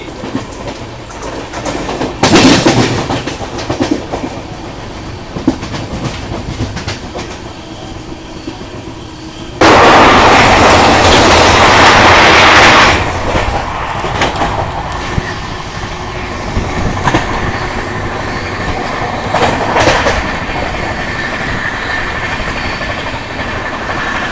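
Uttar Sampark Kranti Express running between New Delhi and Katra, heard from on board as it overtakes the Jammu Mail: a loud steady rumble with rhythmic clickety-clack, plus a sudden roaring rush lasting a few seconds as the trains pass each other.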